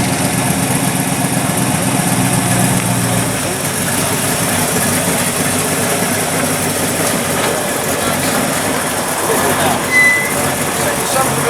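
A custom car engine runs rough at a car meet in Knaresborough, a loud steady engine drone that persists throughout with talking and crowd noise mixed in.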